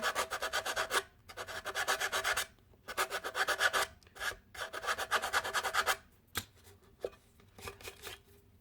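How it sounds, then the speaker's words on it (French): Nail file rasping on a Pringles can to shape it for a craft box, close and loud, in five or six runs of quick back-and-forth strokes with brief pauses and a few sharp taps between them. "on va limer un petit peu. Histoire de lui donner une jolie forme."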